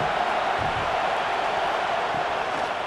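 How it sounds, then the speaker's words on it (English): A college football stadium crowd at an Oklahoma Sooners versus LSU Tigers game roars steadily as the defense pins the offense deep in its own end, a dense, unbroken wash of cheering noise throughout. "this crowd trying to help keep them there"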